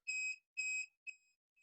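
Home automation countdown timer beeping near and loud in short, high buzzy electronic tones: two long beeps, then quicker, shorter chirps as the final seconds run out.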